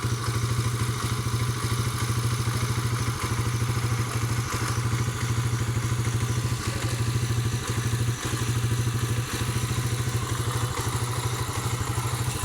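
A motorcycle that had been in an accident runs at a steady idle, its engine putting out a rapid, even thumping pulse with light mechanical clatter, heard close up and alone.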